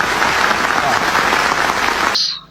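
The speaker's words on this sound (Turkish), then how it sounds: "Alkışlamayın lan! Alkışlamayın! Lan alkışlamayın!" Dense, steady crowd applause from a football video game stadium, loud and continuous for about two seconds before cutting off abruptly into near silence.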